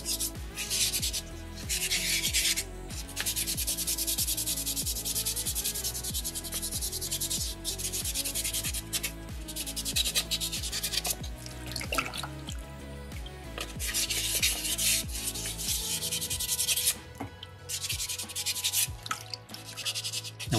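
Sandpaper rubs steadily over a small soapstone beaver carving, a continuous gritty scraping with quick back-and-forth strokes that run nearly without pause, close and fairly loud, with a short lull near the end.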